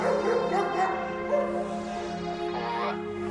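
A police dog searching for a scent around a parked car gives a run of short yips, whimpers and barks, close by and continuous.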